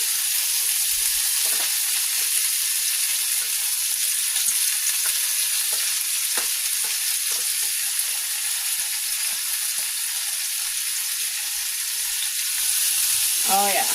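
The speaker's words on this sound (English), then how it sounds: "You want to make sure you get that sizzle." Potatoes and onion sizzle steadily in a hot pan, a dense, even frying hiss lasting throughout with a few small pops and crackles, close and fairly loud with no talking.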